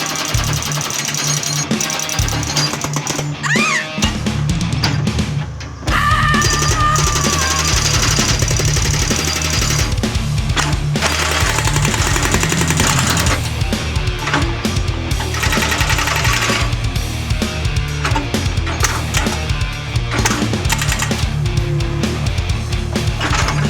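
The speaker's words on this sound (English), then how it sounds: "And by big guns, I mean a really little cute bulldozer." A small bulldozer breaks up concrete in a backyard, producing a loud, continuous engine roar with dense rattling, clanking and pounding bursts close by throughout.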